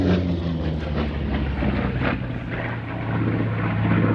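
An RAF Typhoon fighter jet from 29 Squadron, RAF Coningsby, flies at an air show, heard as a steady, loud, broad engine roar with a low droning undertone, sustained and without talk.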